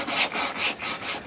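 A brush scrubs paint stripper off a boat's bottom paint in steady rhythmic strokes, four broad swishing passes in just over a second, close and fairly loud with no talking.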